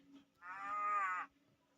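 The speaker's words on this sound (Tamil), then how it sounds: "மாடு வேறு கத்துது" Minecraft cow letting out a single clear, drawn-out moo, close and alone over a faint steady hum.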